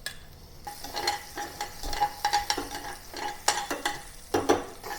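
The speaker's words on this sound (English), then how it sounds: "I'm going to saute the chopped garlic and ginger, and also the white section of the spring onion" Chopped garlic, ginger and white spring onion sautéing in oil, with frequent rhythmic stirring scrapes and clinks of a utensil against the pan over a soft sizzle, close up and without talk.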